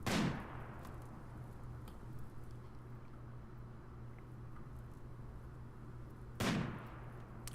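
Gunfire in the video game RimWorld: two sharp, loud shots about six seconds apart over a steady low hum, with no talking.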